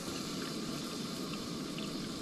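A second cup of water goes into a cooking pot at a snowy truck campsite, giving a brief, even, close rushing and bubbling wash with no voices.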